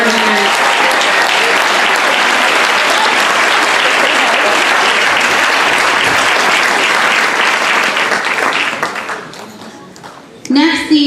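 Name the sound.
audience applause at awards ceremony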